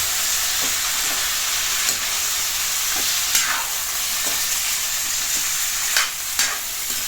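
Chicken feet with pasta sauce stirred in a sizzling pan, a steady bright frying hiss with occasional scraping strokes of the utensil, close and loud, no talking.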